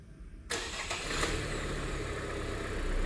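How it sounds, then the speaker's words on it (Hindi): A 2023 Hyundai Alcazar starting by remote key: after half a second of quiet, the engine catches with a sudden loud burst and settles into a steady, close idle with no talking. "सो चाबी से भी गाड़ियाँ स्टार्ट होने लग गई है"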